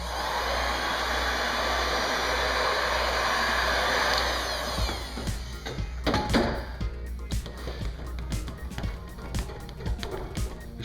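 A heat gun blows a steady loud hiss while warming 3M Scotchprint 1080 vinyl wrap film, cutting off partway through and leaving faint clicks and handling taps of the film being worked.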